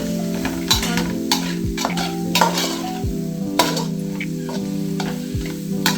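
Chicken masala frying in a pan, stirred with a utensil that scrapes and knocks against the metal every second or so over a steady close sizzle.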